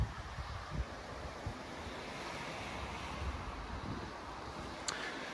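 Sea waves at a beach property in Estepona, a steady wash of surf with wind buffeting the microphone and a few soft thumps, with no voices.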